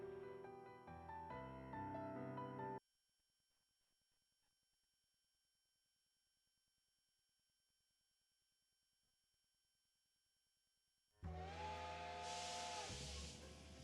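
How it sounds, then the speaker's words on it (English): A steam locomotive pulls into a station in the visual novel Code Realize, its whistle sounding alongside a loud rushing hiss of steam that bursts in after soft game music and a long near-silent gap. "A huge locomotive enters the station, blowing out a gust of white steam."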